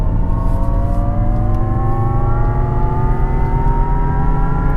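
A Jaguar I-PACE electric SUV on the Portimao race circuit emits a loud, steady electric-motor whine, its layered tones gliding slowly upward in pitch with no voices over it.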